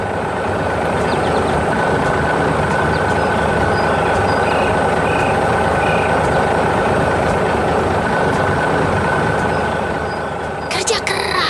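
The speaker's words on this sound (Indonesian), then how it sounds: "Traktor biru sedang beraksi dengan ban yang besar dan detail" A blue tractor with large tyres works a farm field, its steady, loud mechanical rumble running continuously and close by, nearly unchanged throughout.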